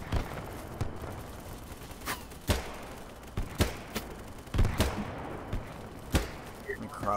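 Gunfire from an AK rifle in BattleBit Remastered, heard as scattered sharp shots and short bursts with heavy recoil, under game ambience and some talk.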